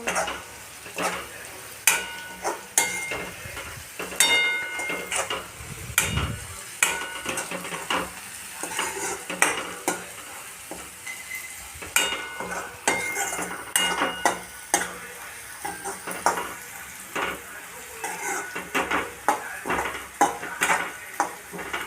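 A spatula scrapes and stirs through pieces of bitter gourd sizzling in a pan, with frequent clinks against the metal and a steady frying hiss underneath.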